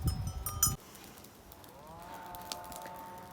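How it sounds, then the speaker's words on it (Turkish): Cattle graze on a farm: a short rustling burst gives way to quiet outdoor ambience with a faint, drawn-out tonal call or bell-like ring from the animals at a distance. "Hayvanlar otluyor aşağıya indiler."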